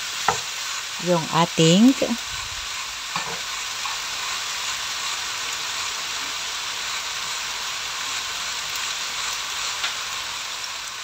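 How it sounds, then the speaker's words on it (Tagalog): Onion stirred and sautéed in a hot pan for chicken adobo, a steady close sizzle throughout, with a few brief scraping stirs near the start and a short spoken phrase early on. "Sunod na rin po natin ilagay ang ating sibuyas. Haluin lang ito ng konti"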